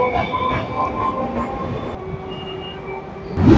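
A Namkhana local train out of Sealdah runs along the line, a steady close rumble of wheels and carriage with faint squealing tones and a louder rattle at the very end.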